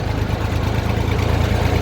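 An empty tractor at the Jamjodhpur market yard runs at a steady low idle, a close, loud, even diesel rumble with a rapid regular throb and nothing else over it.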